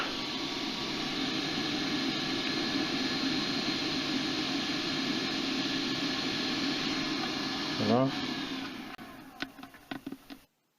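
Small fans fitted inside a Phase 1 Clone helmet whir and rush continuously, a steady close hiss of moving air that cuts off after some brief handling knocks.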